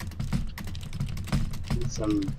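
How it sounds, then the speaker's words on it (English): Fast typing on a computer keyboard, rapid clattering keystrokes under a continuous low hum, with a voice talking over part of it. "sounds like they're just slapping keys"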